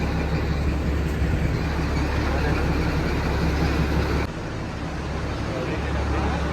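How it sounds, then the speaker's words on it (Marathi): A toy train at Neral rumbles past close by with a steady low roar and rattle, a constant mechanical drone that eases slightly toward the end. "हे आपले टॉय ट्रेन."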